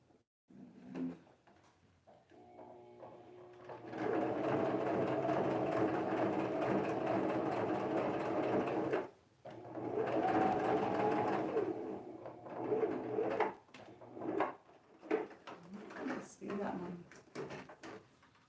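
A sewing machine stitches fabric pieces for a Halloween hexagon project in two long humming runs, then several shorter start-stop bursts, close by in a quiet room.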